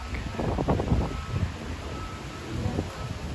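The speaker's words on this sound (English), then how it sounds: "Real windy." Strong wind blows outdoors in downtown Santa Cruz toward the beach flats, buffeting the microphone with low rumbling gusts and rustling noise throughout, with brief knocks in the first second.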